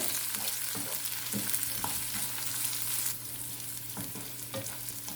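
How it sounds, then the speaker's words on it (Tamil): Onions and mint leaves sauté in a pan for carrot rice, hissing steadily and loudly. Repeated stirring scrapes run under the sizzle, and no one speaks. "புதினா இலையும் வெங்காயத்தோடையே சேர்த்து நல்லா வதக்கிக்குவோம்."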